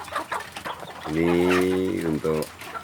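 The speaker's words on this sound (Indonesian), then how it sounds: "Ini ayam yang paling kecil dulu" Native village chicken clucks and harmonic calls rise over a busy background, with one long call followed by a shorter one near the end.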